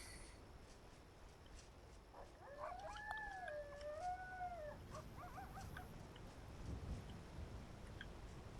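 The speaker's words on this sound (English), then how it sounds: "Of course there will be wolves." Wolves howling in the Skyrim video game: a faint, distant wavering howl with a few overlapping voices that rise and fall for a couple of seconds, heard over a steady rushing ambient background.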